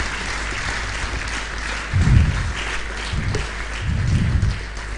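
An audience applauds steadily at a live event, a dense wash of clapping throughout with low thumps swelling twice as the crowd's cheering rises.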